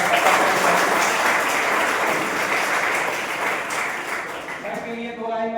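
An audience at a school show gives a guest a dense, loud, continuous round of applause that fades slightly toward the end, where a voice and some tonal sound begin to come through.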